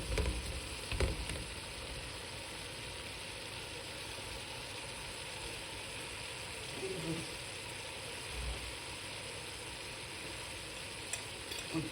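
Chicken and previously fried vegetables sizzling in a pan, a continuous even frying hiss lasting throughout, with a few soft knocks and stirring sounds at the start and near the end.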